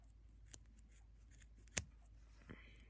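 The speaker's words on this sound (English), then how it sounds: "It's better if you use sharper scissors." Scissors trim the ends of a paracord bracelet, giving two distinct sharp snips about a second apart, close and quiet against a faint background.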